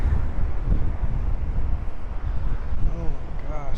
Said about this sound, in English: Wow, you can still hear the wind.